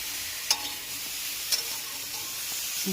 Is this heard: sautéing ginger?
yes